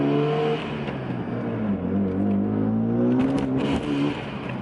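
A 1994 Mazda RX-7 with a JDM-spec sequential twin-turbo rotary engine accelerates, its loud, steady engine note climbing in pitch continuously with no talk over it.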